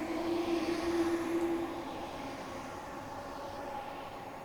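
Class 455 electric train departing on the South West Main Line in Train Simulator Classic, a low rumbling motor drone with a brief whine that fades as the train pulls away.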